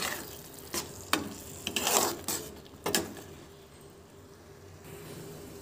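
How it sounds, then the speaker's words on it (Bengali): Chicken kasha spices with red chili being stirred and fried in a pan: a low sizzle under several scraping spoon strokes that come in uneven bursts, close and moderately loud. "এবার আমি ভালোভাবে মিক্স করে নেব"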